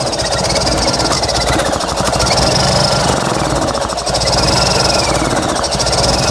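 A Fiat 126p engine running on 92% denatured alcohol instead of petrol, a loud, close, continuous rattling drone with a steady, unbroken idle and no voices.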